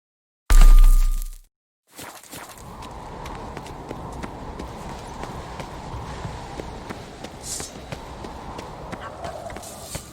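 A horse's hooves in The Witcher 3 video game, a soft continuous patter of steps under game ambience, preceded by a loud brief burst of sound and a short gap.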